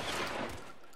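Tommy gun fire in the video game L.A. Noire: a dense, rapid burst of shots that fills the first half-second, then trails off into a softer fading tail.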